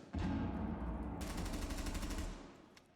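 Rapid automatic gunfire in a Rainbow Six Siege match, a dense burst of shots lasting about two seconds after a brief lead-in, loud and close, then trailing off into quieter game ambience.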